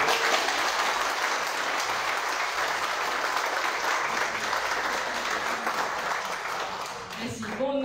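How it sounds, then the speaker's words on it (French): Steady, loud applause from a crowd at a car giveaway ceremony fills the clip, continuous clapping that fades slightly at the end as a voice begins. "Applaudissements."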